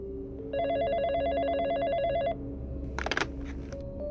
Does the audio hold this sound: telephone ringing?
yes